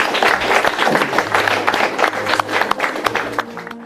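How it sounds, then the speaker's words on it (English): Loud crowd applause at a FIRST robotics kickoff event, dense clapping and cheering from a large audience filling the room and tapering off after a few seconds. "Let's give them all a round of applause."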